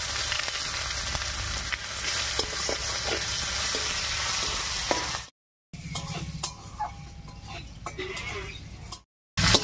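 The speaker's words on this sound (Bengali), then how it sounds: "আর ফোড়ন দেব 1 চামচ গোটা জিরা, 2টো শুকনো লঙ্কা আর পেঁয়াজ কুচি দিব।" Whole cumin, two dried red chillies and chopped onion frying in leftover fish-frying oil for a Bengali fish curry, making a loud, continuous close sizzle with stirring clatter, briefly cut by two short silent gaps.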